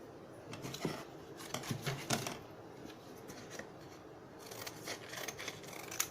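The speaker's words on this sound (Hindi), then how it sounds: "वैसे ही हम यहाँ नीचे भी ट्रायंगल पीस काट कर लगा लेते हैं।" Paper being snipped into small triangle pieces for a handmade Ravan craft model, giving quiet, irregular scissor cuts and soft paper rustles at close range, with no talking.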